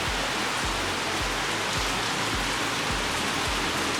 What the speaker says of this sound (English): And the rain is here again.